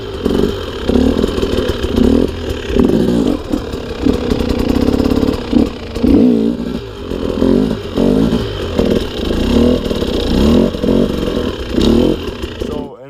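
A dirt bike engine is held at steady, throbbing revs through a slow enduro wheelie, loud and close throughout, with brief dips and surges in the throttle.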